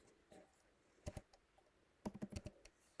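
Quick bursts of keystrokes on a computer keyboard as a date is entered into an Excel spreadsheet, a pair of taps followed by a faster run of clicks, close and fairly quiet.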